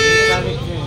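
A car horn sounds with one loud, close toot in a narrow street, overlapped by someone talking.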